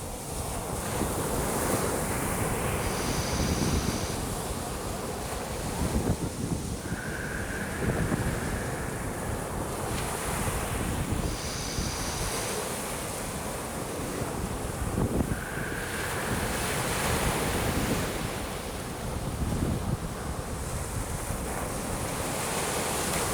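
Sea waves wash onto the shore in steady repeated surges, with a constant roar of surf and some wind noise across the microphone, and no voices.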